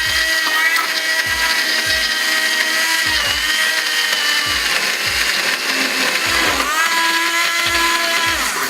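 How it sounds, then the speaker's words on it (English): Electric blender whirring steadily as it purees a pasta sauce, a loud continuous motor drone with a shifting pitch and a rhythmic low thumping throughout, no talking. "Blend it."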